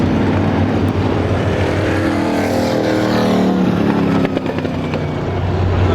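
350 supermodified race cars roar around Star Speedway in a dense, steady wall of engine noise, with a rising and falling pass midway through and no voices on top.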